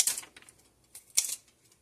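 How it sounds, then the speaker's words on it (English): Kitchen shears snip the ends off pork rib tips, giving three sharp, close clicks spread across a couple of seconds with quiet gaps between them and no talking. "I'm just chopping off the ends here with my scissors"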